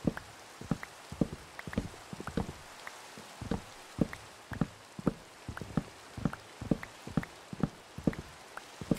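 Steady Minecraft rain hisses softly beneath a regular run of sharp thuds as dark oak trees are chopped, the hits evenly spaced and close by.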